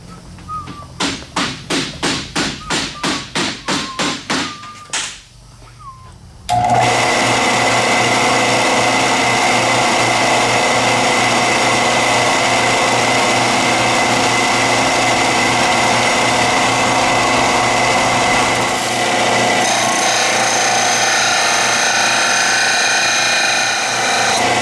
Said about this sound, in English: So we just got to grind that flat.